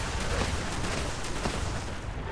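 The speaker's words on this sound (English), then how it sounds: "Lots of explosions in this stream today." Dense, continuous bursts of gunfire and explosions in Fallout 76 rumble and crackle at steady loudness, with sharp shots popping through a constant noisy roar.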